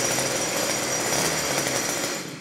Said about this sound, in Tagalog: trolley na grass cutter o grass cutter na may gulong